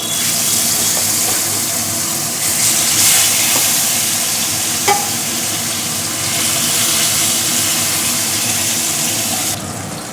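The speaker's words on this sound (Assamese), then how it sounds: "কেৰাহীত তেল দি দিলো তেল গৰম হৈ গ'ল এতিয়া মই ইয়াত মাছ দি দিম" Fish hitting hot oil in a kadai, fried for an Assamese fish curry, gives a loud, steady broadband sizzle that holds for the whole stretch, with a short sharper pop near the middle.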